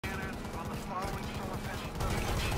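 Video game gunfire, a game with a predator-style enemy firing through a wall near outdoor stairs, comes as a steady stream of rapid low-pitched shots throughout, with faint voice chat mixed underneath.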